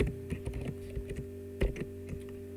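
Keys clatter on a computer keyboard as printf code is typed, a quick irregular run of close, light clicks over a steady low hum, with no talking.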